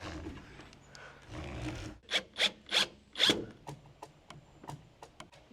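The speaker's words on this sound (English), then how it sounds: "using ratchet straps where ratchet straps are not appropriate" Ratchet straps are cranked tight against a wall during roof framing: after some soft rubbing, four sharp, close ratcheting rasps come in a steady rhythm, followed by fainter scraping clicks.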